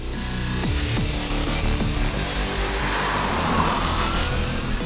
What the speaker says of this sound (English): today we're going to drive the new Hyundai IONIQ plug-in hybrid